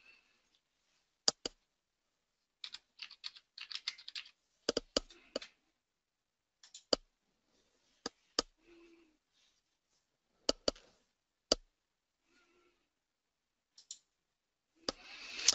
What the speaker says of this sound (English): So I'm going to click on Add Table.